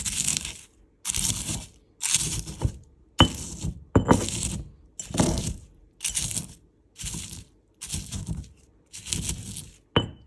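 Garlic and homegrown hot sauce ingredients are ground by hand in about ten rhythmic strokes. Each stroke is a rough, gritty crunch, evenly spaced and close, with short pauses between them and no talking.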